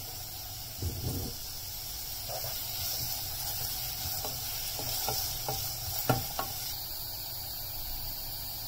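Chopped onions salted and sautéing in a pan for a broccoli gravy give a soft, steady sizzle, broken by several short scraping stirs of a spoon against the pan; quiet and close, with no talking.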